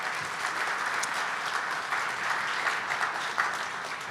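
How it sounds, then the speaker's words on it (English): Audience applause at a Broadway District civic event: steady, dense clapping from a crowd, sustained and even for several seconds at moderate loudness, with no speech over it. "Let's give another round of applause."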